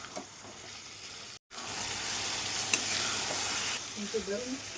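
Meat frying in a pan with a constant sizzle and occasional stirring scrapes, a brief dropout near the start.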